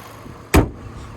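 A single short thump as the hood of a 2017 Chevy Cruze hatchback RS, with a 1.4 liter turbocharged four-cylinder, is lifted open, a brief loud burst against a quiet background.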